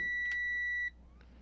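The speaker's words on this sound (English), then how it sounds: "Listen to our annoying meter beep at us because we didn't shut it off." A multimeter left switched on during a repair of a Klipsch RW-10 subwoofer gives a steady, fairly loud electronic beep that holds for most of a second and then stops.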